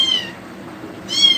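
Cats meow loudly and insistently in two bursts, one at the start and a louder one near the end, with a quieter stretch of faint background noise between them.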